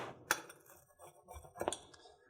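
Pizza cooked without an oven being cut with a pizza cutter, producing quiet crisp crunches and clinks as the blade passes through the crust, two sharper cracks standing out in a faint, close setting.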